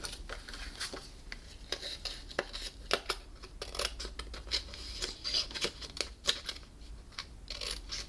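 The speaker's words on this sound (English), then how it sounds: "So just take your paper snips and go" Paper snips cut through card stock along a score line for a note card box, making a steady run of close, crisp snipping clicks and rustles with no talking.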